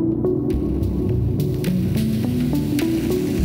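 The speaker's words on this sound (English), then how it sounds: "Did you know a simple reverb algorithm can make a sound like this?" A strange warbling, resonant tone with shifting metallic pitches and sharp ticking clicks, made by a simple all-pass filter reverb algorithm.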